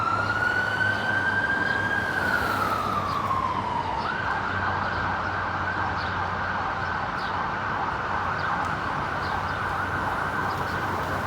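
An ambulance siren holds a long tone, dips, then settles into a steady high wail over constant road noise as the ambulance passes nearby on King Street West in Toronto.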